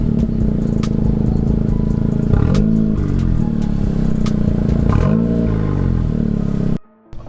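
A loud, raw Honda Civic Sport Touring hatchback engine revs hard several times in rising and falling bursts, harsh and unmuffled with the exhaust removed, then cuts off abruptly.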